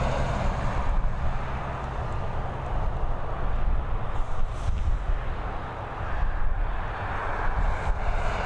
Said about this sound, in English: we've got this Embraer E190 heading over to Amsterdam, operated by KLM City Hopper. I expect this one will be up nice and quickly